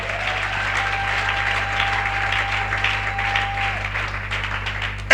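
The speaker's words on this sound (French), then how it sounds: "Acclame pour Jésus" A church congregation claps and cheers in praise during a worship service, a steady wash of applause and crowd noise filling the space for several seconds, with a sustained tone underneath.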